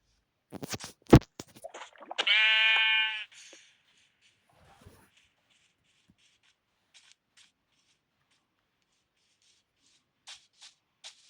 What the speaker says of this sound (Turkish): Biraz koyun kasmam lazım benim. Çünkü yüne ihtiyaç koyun kardeş.